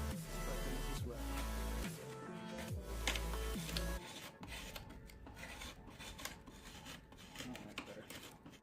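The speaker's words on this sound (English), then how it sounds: "Just took it down with a skew knife, pretty close, probably a 1/4 inch" A skew knife pares down wood on a guitar top or back being radiused, giving a run of dry rasping, scraping strokes that get busier and more continuous in the second half, with low tonal sounds underneath early on.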